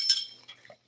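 Metal tools and loose bolts clink and rattle as they are gathered up beside a vehicle being readied for scrap, a bright burst of chinks at first, then a few lighter taps trailing off into quiet.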